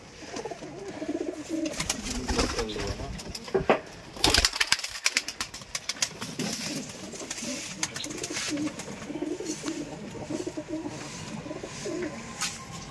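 Giribaz pigeons at a pigeon farm coo steadily and close by throughout, with overlapping calls, a brief flurry of wing flaps midway and no talk.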